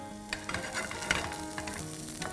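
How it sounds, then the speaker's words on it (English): Steady, close sizzle of garlic sautéing in a little oil over a high flame, a continuous bright frying hiss with small pops and the occasional stir. "I'm going to saute some garlic on high flame"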